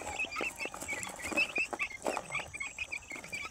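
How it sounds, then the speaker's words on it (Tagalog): Small chicks cluck and peep busily while pecking at termites, a steady chorus of high, close chirps with soft scratching underneath. "pinakain na natin sa ating mga sisiw"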